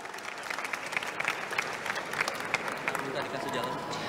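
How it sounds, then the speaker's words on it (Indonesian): Crowd at a packed Indonesian political town-hall event with Anies applauding and cheering, a dense steady wash of clapping with voices mixed in throughout. "Tepuk tangan dulu dong"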